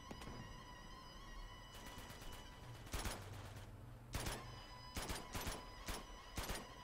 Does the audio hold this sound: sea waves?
no